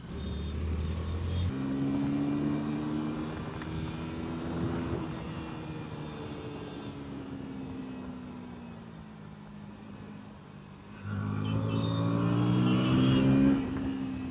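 A KTM Duke 160 motorcycle ridden in third gear, a steady engine drone with rising and falling pitch as the throttle varies, swelling louder again toward the end.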